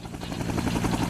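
A military helicopter carrying soldiers in Vietnam thunders nearby, its rotor chop loud and continuous with a dense, rumbling roar throughout.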